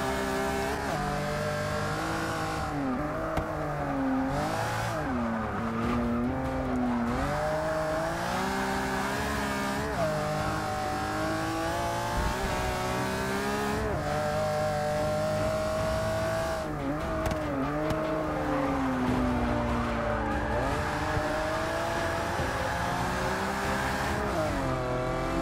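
A 2016 Mercedes-AMG C 63 S Coupé in Forza 6 drives hard, its engine note rising and falling steadily through shifts and corners with a sustained, loud, continuous drone and brief tire squeal.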